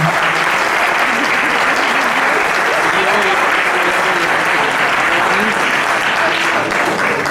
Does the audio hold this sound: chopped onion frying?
no